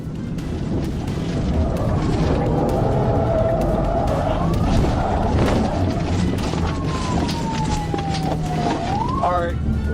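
Interstate 40 highway pursuit where a trooper's police car rams a fleeing car in a tactical vehicular intervention: loud continuous road and engine roar with wind buffeting, a rising siren-like whine, and a thud, with no speech.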